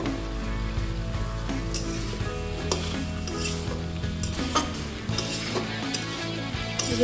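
Taki fish and radish curry cooks down in a pan, its liquid reducing as it is stirred, producing a loud, steady bubbling sizzle with occasional scraping clinks of the spoon.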